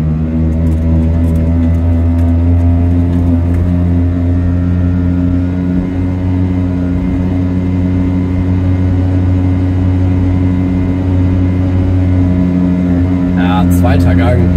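Piaggio Ape 50 engine droning steadily in second gear, a loud, close, even hum held at constant revs throughout with a brief rattle near the end.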